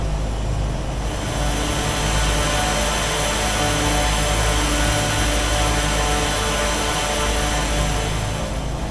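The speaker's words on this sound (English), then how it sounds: "You hear the effects of the wind on the airframe." Steady broadband rush of wind over a Turbine Duke airframe in flight, blended with a constant engine drone, loud and unbroken with no talking.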